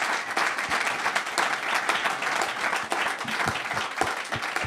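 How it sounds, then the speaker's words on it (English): An audience applauds the top finishers of the 2022 IRONMAN 70.3 World Championship pro men's race at a post-race ceremony, with dense, steady clapping that stays loud and even throughout, with no break. "Round of applause for these incredible men."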